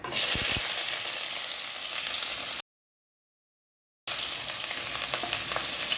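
Sliced onion frying in a pan for Maggi noodles, with a loud close hiss at first and then a steady sizzle, broken by a short stretch of silence.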